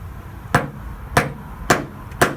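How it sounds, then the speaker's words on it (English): A hammer strikes a tap-down tool against a hail-dented car panel during paintless dent repair, making four sharp, evenly spaced metallic knocks, close and clear. "So now we need to use our tap down and our hammer and get this thing back down where it's supposed to be."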